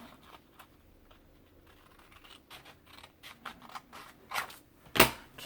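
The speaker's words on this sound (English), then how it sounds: "I'm just going to trim with my scissors" Quiet, close snipping and crisp rustling of scissors trimming paper for a window envelope pocket, a series of short irregular cuts ending in a sharper snip.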